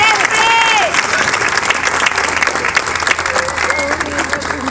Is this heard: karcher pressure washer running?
no